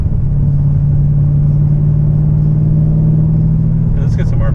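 A Chevrolet Camaro ZL1 with 3-inch headers and an X-pipe exhaust drones at steady low rumble while driving, loud and constant from inside the car, with a brief voice near the end.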